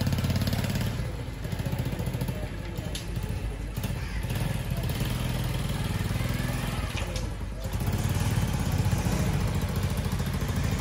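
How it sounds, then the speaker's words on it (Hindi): A modified motorcycle engine runs steadily nearby with a rough, clattering putter, swelling slightly louder toward the end. "ये देखें जी, हमारा मोटरसाइकिल है ना, जो ये आ रहा है"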